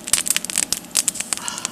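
A small campfire on a riverbank crackles and pops close by, with a quick string of sharp snaps and light sputtering over a quiet background.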